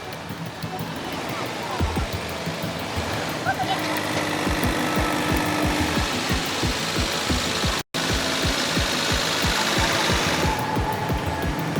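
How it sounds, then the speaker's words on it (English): A Caterpillar D8T bulldozer with a Cat C15 diesel engine runs loud and close, a steady heavy chugging rumble with a rapid regular knock, continuing unbroken apart from one brief cut. "The sheer power of that Cat C15 engine is enough to make any gearhead drool"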